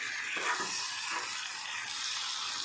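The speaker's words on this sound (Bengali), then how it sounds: "একসাথেই মশলাটা ভাজা হয়ে গেল।" Spices fry in a pan over a high gas flame, giving a steady, close hiss of sizzling oil that runs throughout with no talk.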